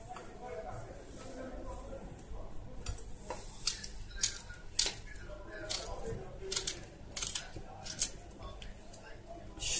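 A knife chops vegetables into large chunks for a vegetable lentil soup, giving an irregular run of sharp, close taps on a cutting board, with a voice talking over the work.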